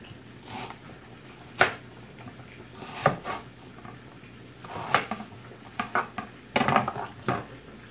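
A knife trimming the end off beef patty dough on a kitchen surface, with scattered clinks, taps and light scraping of utensils, some sharp and close, spread irregularly with brief pauses.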